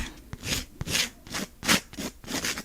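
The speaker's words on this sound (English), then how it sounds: "let's start filing here. We're going to file our free edge a little bit." A 150 grit file rasps across the free edge of a nail in quick, close back-and-forth strokes, about half a dozen brushing scrapes in an uneven rhythm, with no one talking.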